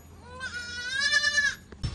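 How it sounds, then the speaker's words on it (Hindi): A goat gives a single close, wavering bleat lasting about a second, with a short thump just after. "चंदा बहुत ज्यादा तेज है बहुत ज्यादा दूसरी बकरी है"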